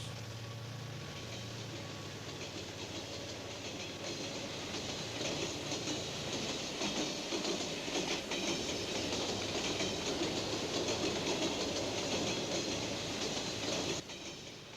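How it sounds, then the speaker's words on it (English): A Chicago and Northwestern 400 streamliner passenger train rolls past at speed, a loud steady rumble of wheels and rail clatter building slightly before easing off near the end. "Chicago and Northwestern's 400 claimed to be the train that set the pace for the world"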